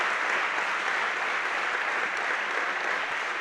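A church congregation at an annual retreat applauds with steady, even clapping that holds at the same strong level throughout, with no voices rising above it.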